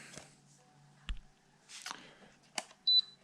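A short electronic beep sounds while an Outback Fury 3 RC car is paired with its transmitter, a brief high tone near the end after a few quiet clicks and handling noises.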